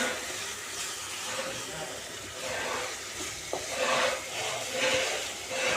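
Ginger-garlic paste frying in a pan for a spiny gourd curry, a steady close sizzle with soft stirring and scraping throughout.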